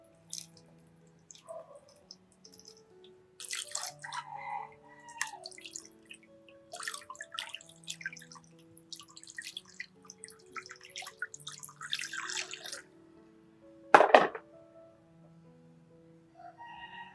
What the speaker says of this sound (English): You wash this leaf with water.